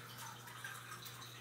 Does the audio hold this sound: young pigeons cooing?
no